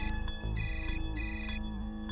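A mobile phone rings with an incoming call, its electronic ringtone melody playing loud and close in repeating tuneful phrases, with no talk over it.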